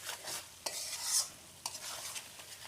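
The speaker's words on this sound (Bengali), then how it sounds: "তো আমি আর একটু নুন দিয়ে মাংসটাকে কষাবো" Chicken pieces being stir-fried (kosha) in released oil with salt, quiet sizzling under several sharp scraping stirs of a spatula against the pan, no voices.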